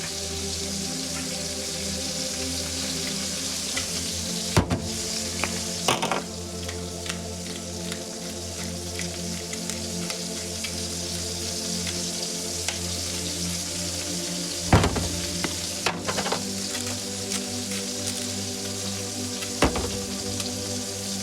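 A steak sizzles and fries in a hot pan beside chips, a steady close hiss running throughout, broken by a few louder pops and clatters of the pan being moved, with no talking.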